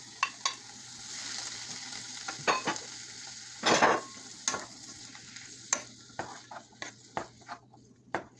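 Garlic, tomato and red pepper sizzling in a pan for a vegan black rice dish, a soft steady fry broken by loud scraping stirs and clicks of a utensil against the pan.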